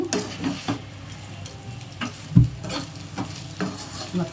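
Okra (bendakaya) fries in a pan, a close steady sizzle broken by repeated stirring scrapes and one louder knock of the spatula against the pan.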